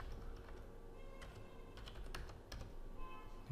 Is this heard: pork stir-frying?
no